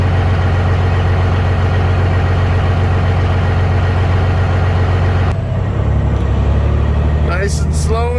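A semi truck hauling salt loads idles while warming up in the morning, a loud, steady low diesel rumble with a shift in tone partway through and a voice speaking over it toward the end.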